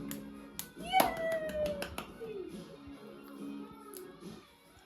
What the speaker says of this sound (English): but she claps now.